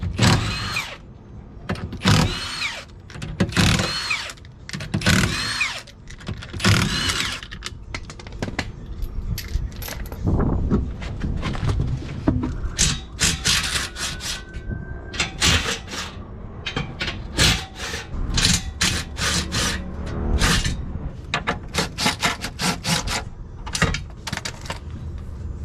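Axle-back exhaust section being unbolted and pulled off from under a K20 turbo EF sedan, with repeated metallic clanks, scrapes and rubbing knocks in irregular bursts, close and fairly loud, no talking.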